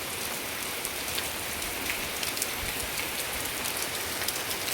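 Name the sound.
rain falling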